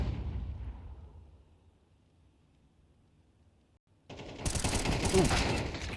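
Gunfire in a Counter-Strike match on the Vertigo map: a loud burst fades into quiet, then a sudden dense barrage of rapid shots and blasts takes over, close and harsh.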